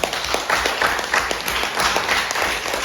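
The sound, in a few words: audience applause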